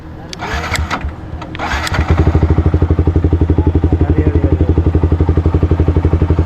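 A Yamaha R15 motorcycle cranks briefly and then fires up, settling into a loud, steady, rapid idle close by after a few seconds of handling noise.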